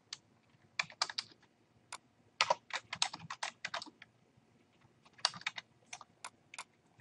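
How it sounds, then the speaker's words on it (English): Typing on a computer keyboard while entering bill details, with bursts of close, crisp key clicks separated by short pauses and no speech. "You would type in the vendor name."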